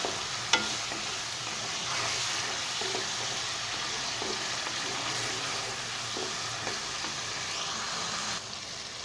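Tomatoes and slit green chillies fry in hot tempering oil for a zucchini (tori) curry, giving a steady, close sizzle with a few soft stirring clicks and a brief sharp tap near the start.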